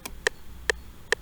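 Three evenly spaced, crisp metronome clicks from FL Studio music production software, sounding alone with bright, short, identical taps and nothing else in between.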